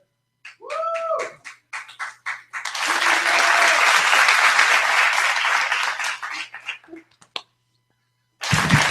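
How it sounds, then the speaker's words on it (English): Comedy club crowd in Tampa bursting into loud, sustained applause and cheers after a comedian's set ends, preceded by scattered claps and followed by a short fresh burst. "Make some noise for Gwiggy, ladies and gentlemen."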